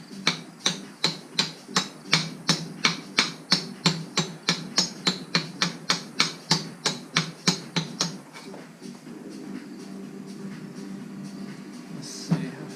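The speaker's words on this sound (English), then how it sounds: "hammer this thing in a little bit with my 1 5/16" A 1 5/16 socket is hammered onto a steering rack for a 300ZX Z32 in a string of about twenty sharp, evenly spaced metallic strikes. Quieter mechanical rustling and handling sounds follow.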